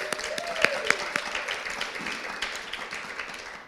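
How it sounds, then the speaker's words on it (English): Audience applause at a dance and choreography event in Nashville, scattered clapping with a few sharp, close claps near the start, under a faint tone and background murmur, gradually thinning. "How about giving a round of applause?"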